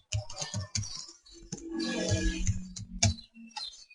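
Username and password go in on a computer keyboard in a quick run of close key clicks, uneven in rhythm, with a low hum in the background.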